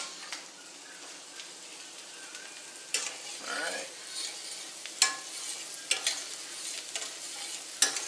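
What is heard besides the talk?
sausage sizzling in a frying pan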